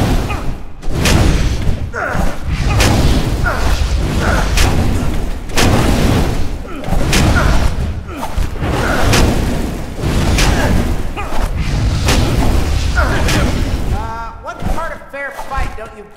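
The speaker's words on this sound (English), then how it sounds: "Cannons fire!" Cannons firing in the PS3 video game Kung Fu Panda 2, heavy booming blasts repeating roughly every second or so over a dense, loud battle din, with a final scatter of lighter clatter at the end.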